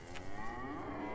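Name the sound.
cow mooing in the video game DayZ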